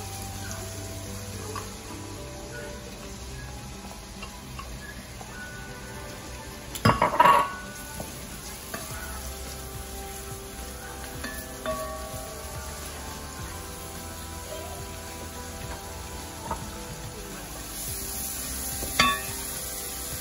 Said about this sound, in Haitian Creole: quand il y a un petit beurre frit dans la chaudière pour qu'on frit les oignons